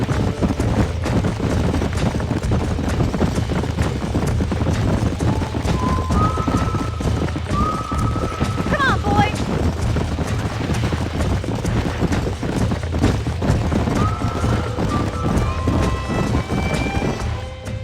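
Horses in the video game Red Dead Redemption gallop with rapid, continuous hoofbeats, while a few whinnies rise above the running, loud and close throughout.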